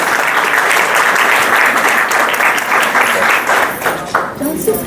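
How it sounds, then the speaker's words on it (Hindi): Loud, sustained applause from a seminar audience in Mangalore, dense clapping filling the space and tapering slightly toward the end. "जोरदार तालियां आप सभी की होनी चाहिए।"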